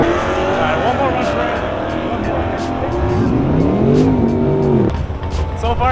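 A Honda Accord launches on a drag strip at a meetup. Its engine roars loudly and climbs in pitch through the gears, with a brief chirp of tire noise.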